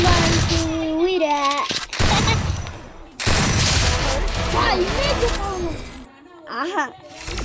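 Shotgun blasts in a video game fire in sharp bursts amid the game's effects and other noises, while a player talks excitedly throughout.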